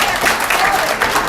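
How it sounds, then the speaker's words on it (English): Audience at a live stand-up comedy show breaks into a round of applause, dense steady clapping from a crowd filling the room, loud and continuous throughout. "round of applause if you ever had road rage in your life"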